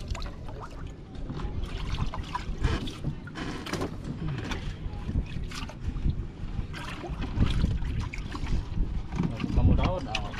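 Boat engines on a skipjack tuna fishing trip drone steadily over splashing water and wind buffeting the microphone, with voices talking intermittently throughout.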